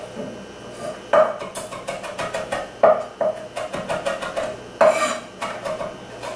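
A knife finely minces fresh mint leaves on a cutting board, giving quick repeated chopping taps and a few sharper knocks at an even, close rhythm.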